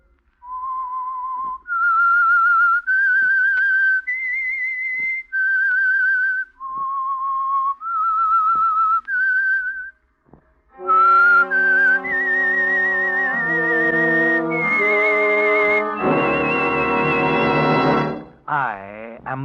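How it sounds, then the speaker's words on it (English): A clear whistled melody of long held notes, the radio theme signal of The Whistler, followed by a brass-and-orchestra fanfare picking up the same tune. "That whistle is your signal for the Signal Oil program"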